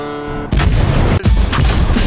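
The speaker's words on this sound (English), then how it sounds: "I'll watch the explosion." A loud, sustained explosion in a video game bursts in abruptly after a brief tonal lead-in, roaring and crackling close up, with a short cut and a second rolling blast.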